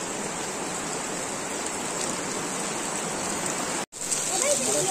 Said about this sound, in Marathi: पाऊस पण आला